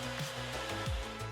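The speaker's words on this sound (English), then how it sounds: "If you notice the dryer is too loud, complete the following steps to adjust the dryer's speed." A World Dryer VERDEdri HEPA-filtered hand dryer runs with a loud, steady blowing roar and a constant motor whine, alone without any voices.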